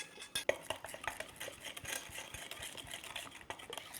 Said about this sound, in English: Mix well until this sugar is well melted.